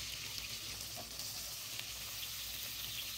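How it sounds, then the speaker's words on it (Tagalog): Onions sauté in a pan as the base for magroba, giving off a steady, quiet hiss of sizzling oil that continues evenly throughout with no talking. "So ayan, ginisa ko na yung sibuyas."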